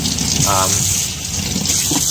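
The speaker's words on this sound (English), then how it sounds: "just give it a quick rinse again, just to get any of that dye out of there" Running water rinses dye out of a film developing tank during home C-41 colour film processing, a steady close gush with brief faint voice traces.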